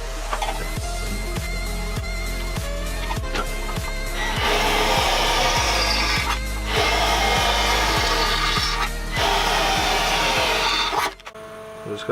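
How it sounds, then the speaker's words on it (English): Power drill boring three holes into a car centre console, a Mini project build; a steady loud whine with grinding bursts as the bit bites through, stopping abruptly near the end, with a faint rhythmic ticking throughout. "so I've got to drill 3 holes for this"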